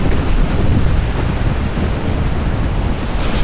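Heavy Hurricane Sandy surf crashes against the end of a pier in a steady, loud roar, mixed with buffeting wind rumble on the microphone and no voices.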